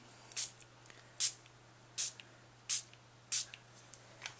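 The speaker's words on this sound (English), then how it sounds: "I'm just going to spritz this background because I want it to be a little bit shiny" Shiny shimmer spray spritzed onto a card background in short bursts, five or six crisp hissing puffs spaced evenly about a second apart, close and fairly quiet against a faint hum.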